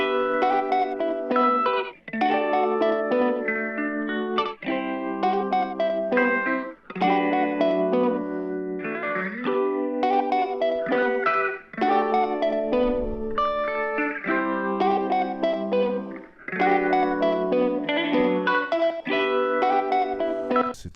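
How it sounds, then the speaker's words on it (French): Piano chords and stereo synth elements sent through a shared reverb, sustained notes blooming in repeated phrases with long washy tails, steady and full without any voices. "je fais passer le tout dans une reverb"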